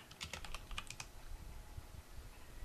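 Quick keystrokes on a computer keyboard while searching for Device Manager on a Windows PC, a short cluster of crisp taps in the first second, then only a low background hum.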